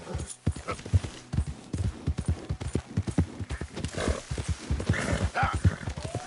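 Horse hooves clip-clop in a steady trotting rhythm from a mount ridden in Red Dead Redemption 2, loud and close throughout, with occasional snorts and whinnies.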